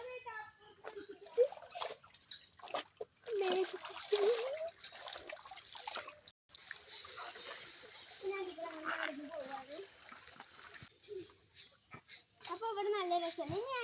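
Water trickling and splashing as someone wades into a small stream, faint and intermittent beneath frequent talking.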